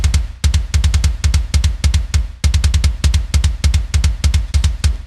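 A processed kick drum, clipped, EQ'd for attack and blended with a one-shot sample, hits alone in a fast, tight repeating metal pattern, loud and punchy with sharp clicks on every beat.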